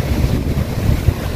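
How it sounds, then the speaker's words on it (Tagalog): Big sea waves churning under strong wind at a Philippine coast, a loud continuous roar of surf with heavy rumbling gusts buffeting the microphone, no voices. "Ang laki talaga ng alon."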